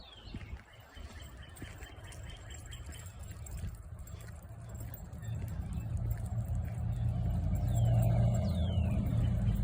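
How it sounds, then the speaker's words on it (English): A big jacked-up truck approaches along a town street, its low engine rumble swelling louder and nearer over several seconds, with birds chirping faintly in the background. "Big jacked up truck going by."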